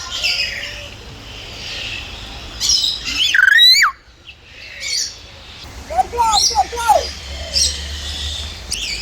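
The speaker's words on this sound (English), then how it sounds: "I finally got these lesser palm cockatoos in the sunshine" Lesser palm cockatoos at a bird park give loud, close, harsh squawks and rising chirping calls in irregular bursts over a steady outdoor background.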